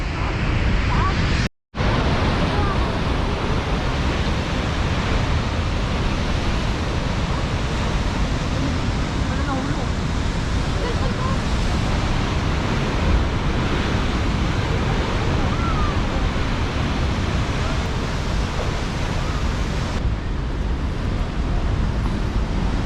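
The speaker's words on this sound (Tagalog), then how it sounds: "magandang ang dagat, masyadong malakas sa mga alon" Steady roar of strong surf at Pancake Rocks, New Zealand, with heavy wind buffeting the microphone, continuous and loud throughout, with a brief dropout near the start.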